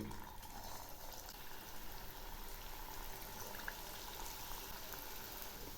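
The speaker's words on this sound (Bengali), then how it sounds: "তেল গরম হয়েছে, এখন আমি একে একে পিঠাগুলো ছেড়ে দিচ্ছি।" Semolina pitha dropped into hot refined oil in a kadai over low heat, a faint, steady, even sizzle and gentle bubbling with no voices.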